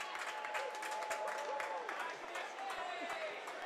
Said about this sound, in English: That round of applause is for Daniel Taylor's first stint in the Rovers shirt.